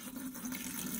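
Liquid splashing and gushing steadily for about a second into an RV sink drain, a close, continuous watery pour with no talking.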